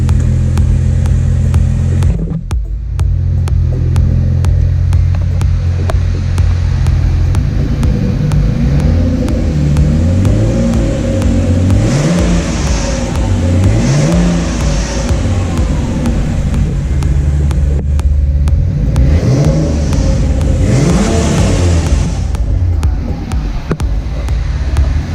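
A Ford EL Fairmont Ghia with a Barra engine and a 3.5-inch twin-muffler exhaust idles with a deep, steady rumble, then gets blipped several times with rising and falling revs, loud and close.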